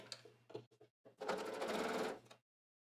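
A sewing machine stitches a pocket in a few short stop-start bursts, then runs steadily for about a second before stopping, close and clear.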